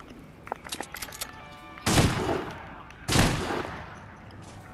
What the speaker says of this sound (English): Where are all these shotguns shooting from?